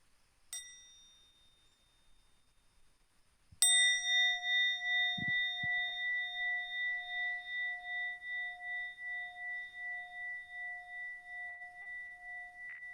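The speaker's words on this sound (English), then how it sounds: "invite the sound of the bell for us to breathe" A mindfulness bell invited during Zen practice: one faint early tap, then a single clear, resonant strike whose bright tone rings on, slowly pulsing and fading over many seconds in an otherwise quiet room.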